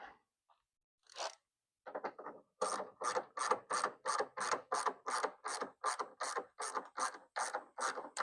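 A ratchet wrench tightening hood bolts on a 1970 Dodge Challenger, close and crisp, a few hesitant clicks, then a steady run of rhythmic ratcheting strokes, each a quick burst of clicks, with no talk.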